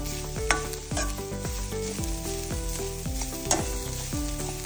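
Grated coconut browns in a pan for crab masala, with a steady close sizzle and repeated rhythmic scraping strokes of stirring, about one each half second.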